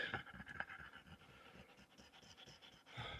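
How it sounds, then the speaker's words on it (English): A dog pants steadily on a mountain hike in the Sierra Nevada's Lake Basin region, quick rhythmic breaths close by and fairly faint, with no talking. "so far I'm not breathing as heavy as Izzy"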